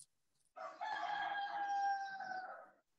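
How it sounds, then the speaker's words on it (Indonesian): A rooster gives one drawn-out cock-a-doodle-doo lasting a couple of seconds, heard alone and somewhat distant against an otherwise silent background. "Suara ayam itu."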